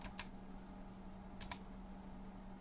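Quiet, quick typing of a file name on a computer keyboard, a short burst of light key clicks with a couple of sharper taps, heard alone over a faint steady hum.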